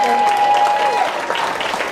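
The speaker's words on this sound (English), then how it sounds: "How about a round of applause for your wait staff?" Audience applause for restaurant wait staff during a comedy set, a steady wash of clapping with a sustained tone and some voices underneath throughout.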